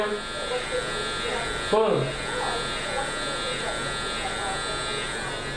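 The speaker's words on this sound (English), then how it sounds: "Using the left side of your clipper blade." An electric hair clipper buzzes steadily up close as it cuts a lineup at a barbershop, while someone talks over the hum.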